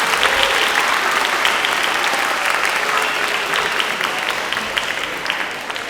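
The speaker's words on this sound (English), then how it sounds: "you guys give one more round of applause for Todd Parr, please." A school assembly audience of students claps in a dense, sustained round of applause, loud and close throughout, easing off slightly at the end with no talk over it.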